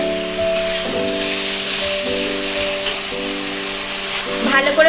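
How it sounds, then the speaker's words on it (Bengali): Sweet pumpkin pieces with a little sugar are sautéed in a pan for a tilapia fish curry, a soft continuous sizzle with light stirring, while a steady tonal hum runs underneath. "এবার ভালো করে কষিয়ে নেব।"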